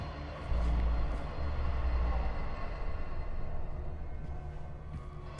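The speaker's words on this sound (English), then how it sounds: "I guess that's regular ship noise you heard" Low, continuous rumbling spaceship ambience in the video game The Callisto Protocol, a heavy mechanical hum with faint hiss above it, steady and without speech.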